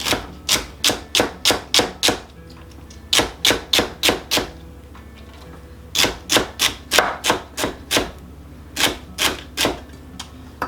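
Knife dicing celery stalks on a cutting board, heard as sharp rapid chops in quick bursts of four to six strokes separated by short pauses, close and crisp with no talking.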